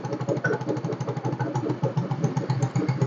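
Motorcycle engine with a newly replaced regulator rectifier (kiprok) idling close by, a steady throbbing, slightly uneven putter with no one talking.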